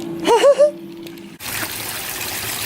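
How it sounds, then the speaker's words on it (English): A small backyard waterfall trickles in a steady, close wash of running water that takes over after a brief voice and a short hum at the start. "We have this super cute little waterfall in our backyard."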